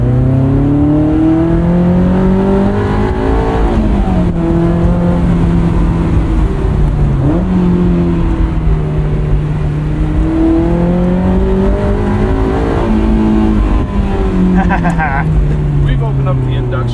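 A 2001 Honda S2000 with an opened-up intake, its airbox and insulator removed, revs steadily while driving, the engine note rising and falling continuously and loudly throughout with people talking over it.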